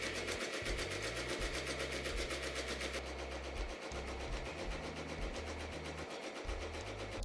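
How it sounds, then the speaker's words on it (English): An embroidery machine stitches a small letter B onto a hat, humming steadily with a fast, even mechanical rhythm throughout, moderately close and with no talking. "So we're just gonna press start. Now it's gonna stitch down that little B."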